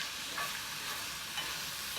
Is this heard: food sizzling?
yes